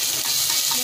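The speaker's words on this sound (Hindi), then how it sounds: "प्याज को टिके ब्राउन हेला पर्यंत भाजी देबा" Chopped onions browning in a hot pan for a potato and chickpea curry, giving a steady, close, even sizzle with no voices.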